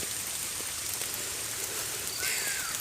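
Steady rain pouring down around a house in Kerala, a constant close hiss of drops on surfaces, even and unbroken, with no voices.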